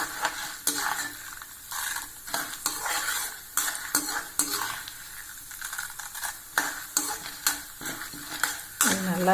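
Urad dal and chana dal frying in oil in a pan, a soft crackling sizzle broken by repeated sharp scrapes and clinks of a spoon stirring against the metal.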